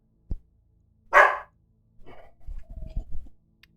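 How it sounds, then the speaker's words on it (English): Pet dogs bark indoors: one sharp, loud bark, then a few quieter yips and muffled rumbling barks spread over a few seconds, with no talk. "My dogs are being a little bit loud right now."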